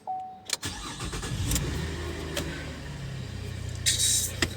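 A car engine in Kuwait cranks briefly, catches with a burst, then settles into a steady, close idle hum with a few soft clunks and no voices.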